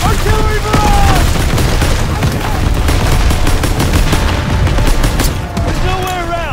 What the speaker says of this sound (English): Get down! Artillery barrage!